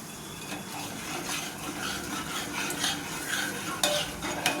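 A spoon stirs cardamom, cashews, almonds and raisins in a pan of milk kheer, a steady scraping and swishing with a faint sizzle, close and continuous, with a couple of sharper metallic knocks near the end.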